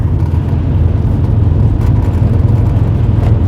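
Turbocharged Subaru Forester engine pulling under acceleration, a steady low rumble with road and wind noise heard from inside the car, continuous and fairly loud throughout.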